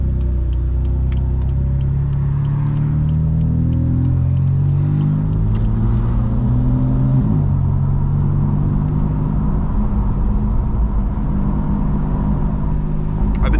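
BMW F82 M4 cruising through city traffic, a low steady engine drone with rising and shifting gear tones, a deep continuous rumble heard from inside the cabin without voices.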